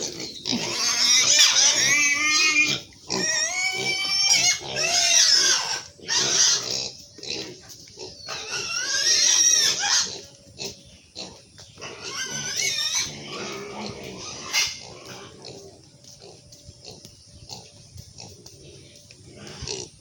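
Pigs on an Assam farm grunt and squeal loudly in bursts, high shrill cries alternating with lower grunts, close by, with quieter stretches between.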